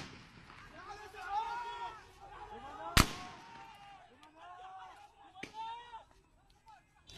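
Live gunfire aimed at protesters during a crackdown in Wasit, Iraq: one loud, sharp crack near the middle, then a fainter report a couple of seconds later, over shouting and chanting from a crowd.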